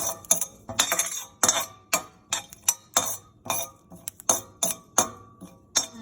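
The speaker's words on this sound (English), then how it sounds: "I'm going to stir it around a little bit. This pan is very hot." A utensil stirring in a very hot dry pan with no oil while making sweet potato hash browns, producing sharp, irregular metallic clinks and scrapes repeated close by.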